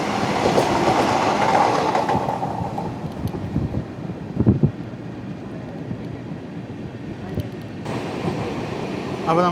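Vande Bharat Express running between Mangaluru Central and Thiruvananthapuram Central rushes past near Mullurkara, a loud, broadband rail roar with clattering wheel noise that stays steady, swells around the middle and cuts off abruptly near the end.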